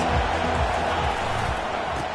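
A stadium crowd cheers in a football video game, a steady, dense roar that holds at an even level throughout without dropping away.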